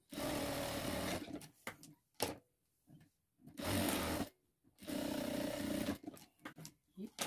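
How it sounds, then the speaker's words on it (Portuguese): A sewing machine stitches the side seams of a handbag in three long runs of steady motor whir, with short pauses, brief bursts and handling clicks between them. "aqui eu vou costurar todas as laterais"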